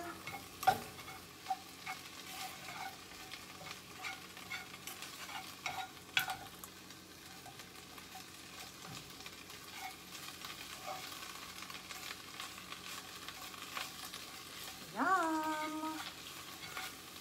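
Greens sizzle steadily in a frying pan while being stirred to wilt, with scraping stirs and clicks over the continuous frying hiss, and a brief squeal near the end.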